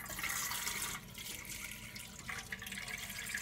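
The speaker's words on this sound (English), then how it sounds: "Add 1 to 2 inches of water inside the pressure cooker." Water runs and splashes steadily into a metal pressure cooker for a few seconds, a close, continuous gush with a brief dip in flow partway through.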